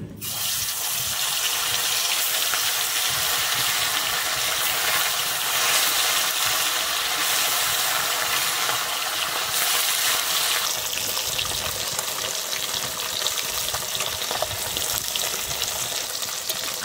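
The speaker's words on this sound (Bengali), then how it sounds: "প্রথমে মাছগুলোকে ভেজে নেব।" Parshe fish fry in hot mustard oil in a kadai, a loud, steady, rushing sizzle that fills the whole stretch without pause, with no voices.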